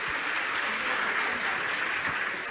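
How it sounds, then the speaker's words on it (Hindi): Loud, sustained applause from a large religious gathering at a Jain discourse session, dense clapping filling the whole stretch evenly with no voices. "दोनों हाथ ऊपर उठा करके एक बार जोरदार तालियां सभी लोग बजा दें।"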